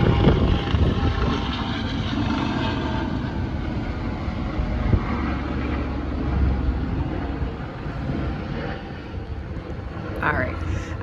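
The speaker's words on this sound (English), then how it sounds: "there's a helicopter." A helicopter's rumbling drone carries on under a person talking, fairly steady and moderately loud throughout.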